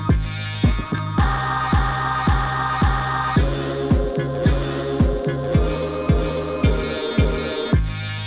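A chopped sample loop on an Akai MPC Key 37 with a booming kick drum added on top, giving a steady pulse of deep thumps under the sustained chords, loud and even throughout.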